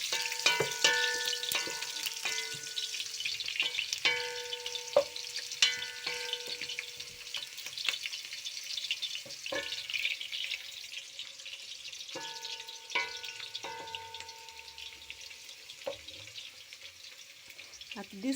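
Matoke bananas cook in a pot on a traditional kitchen stove, giving a steady close sizzle and bubbling, with occasional clanks and stirring scrapes throughout.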